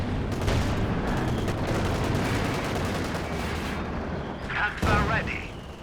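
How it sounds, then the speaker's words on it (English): Gunfire and artillery in the strategy game Company of Heroes 2, a dense rumble of shots and booms with a sharp burst near the end, under a commentator's talk. "Just popping off shots."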